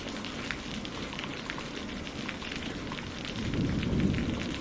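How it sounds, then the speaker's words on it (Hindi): Steady heavy rain pouring down outside a railway station, a dense continuous hiss with scattered drop patter, swelling into a low thunder rumble toward the end. "ये बारिश तो रुकने का नाम ही नहीं ले रही है।"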